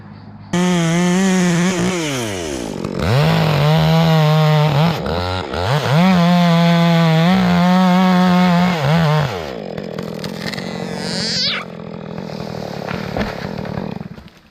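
A loud chainsaw revs and bogs repeatedly up close while felling a huge rotten oak, then cuts off, followed by a brief creaking crack of hinge wood.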